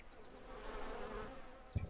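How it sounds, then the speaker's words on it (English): In the Lumberjack's Dynasty video game, bees buzz near beehives in a soft, steady insect drone at moderate distance, with a brief thump at the end. "Can hear the bees."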